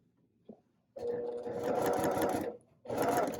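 A sewing machine backstitching a quarter-inch seam while piecing a quilt, two close bursts of rapid buzzing stitching, the first longer, separated by a short pause, after a faint click.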